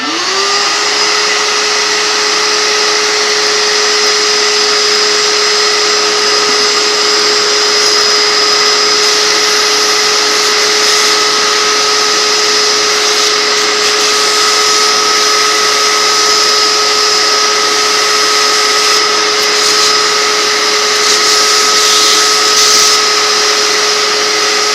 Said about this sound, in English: we'll see if the shop vac will pull it out the nipple hole